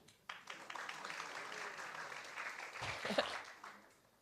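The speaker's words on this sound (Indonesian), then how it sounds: "Coba lagunya kita tepuk tangan dong buat teman-teman yang di stage ini ya." Applause from a church congregation during a Sunday service, a broad steady wash of clapping that starts abruptly, holds at moderate level for several seconds and tapers off at the end.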